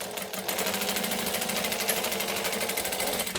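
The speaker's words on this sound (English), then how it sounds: "And then we're just going to stitch across the base" A sewing machine stitches across the base of a fabric handbag, a rapid, even mechanical chatter running continuously for a few seconds at close range.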